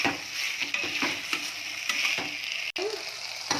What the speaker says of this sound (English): Saute it a little bit.